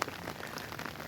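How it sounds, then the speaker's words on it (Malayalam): Light drizzle falling on a hillside road up to Mel Palani; a soft, steady patter and hiss, faint and brief, with no voices. "നല്ല മഴയുണ്ട് കേട്ടോ."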